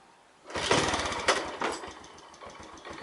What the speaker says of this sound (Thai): เดี๋ยวเราจะมาสตาร์ทที่รีโมทให้ดู โดยไม่ต้องใช้กุญแจรถนะครับ